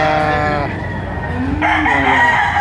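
A rooster crows loud and close at a gamefowl yard in Lipa, Batangas. Its harmonic call rises and falls, and a second crow follows over a steady farmyard background.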